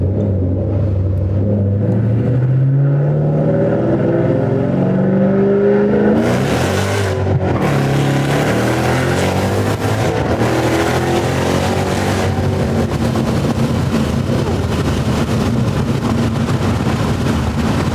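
A stock car engine with a drag pack revs up hard through first gear, pitch climbing steeply, then roars loudly at high revs before settling into a sustained rumble.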